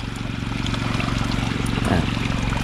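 Water trickles and gurgles along an irrigation furrow in a calamansi orchard, making a steady, continuous running sound close to the listener over a low rumble. It stays fairly loud and unbroken throughout.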